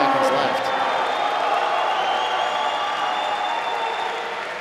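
A large crowd at the Arnold Strongman Classic stone medley event cheers and applauds steadily, a dense roar of clapping and voices that fades slightly toward the end.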